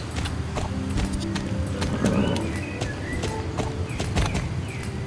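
Horse hooves clip-clopping in the Star Stable video game, a steady rhythmic trot of clear, close hoofbeats with a brief whinny partway through and no talking.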